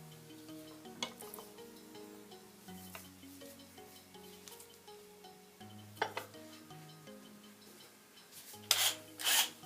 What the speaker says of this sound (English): I just need to file off the top of the rivet